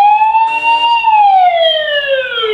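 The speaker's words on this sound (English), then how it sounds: "we can hear the sound of the alarm" A security camera's built-in alarm siren wails loudly nearby, a single rising and falling electronic tone that sweeps up, then slides down over a couple of seconds, with no talking.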